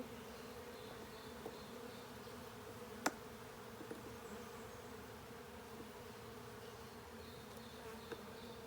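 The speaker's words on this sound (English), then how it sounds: "These bees are a swarm that just moved into this hive." A dense, steady hum of a newly arrived swarm of honey bees buzzing inside a hive box of frames, continuous and quiet, with one brief sharp tap partway through.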